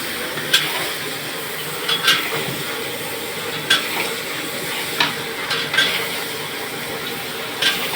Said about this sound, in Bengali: তো দাদা এখানে এখন চিংড়ি মাছগুলো ফ্রাই করছে।